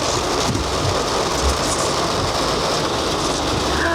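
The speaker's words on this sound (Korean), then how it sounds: "비 진짜 많이 온다." Heavy rain pours down steadily as a dense, continuous broadband wash with no talk over it, the downpour dark and relentless throughout.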